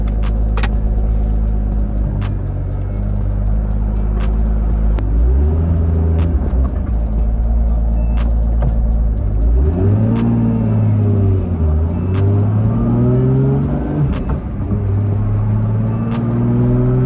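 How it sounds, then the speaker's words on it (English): Turbocharged Toyota Supra with a big turbo revving hard outdoors, engine rising and falling through several rev sweeps with turbo whine riding over a loud rumble, with some wind noise. "Already hear that turbo."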